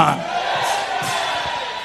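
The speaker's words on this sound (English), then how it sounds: "Jump up and shout amen like a Christian." A church congregation shouts amen together in a loud, sustained crowd roar with overlapping voices, lasting under two seconds.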